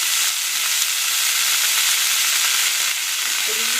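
Capsicum and onion sauté in oil for a thuvaiyal, with a continuous close sizzle that holds steady throughout, with faint scraping as the pieces are moved.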